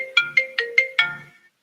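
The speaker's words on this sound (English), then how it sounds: "of course, the phone would ring when I go live" A phone ringtone plays five quick bright electronic chimes in an even rhythm, close and clear, ending in a short fading tail with no voices.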